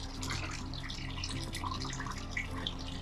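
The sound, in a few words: water with bleach running through off-grid water system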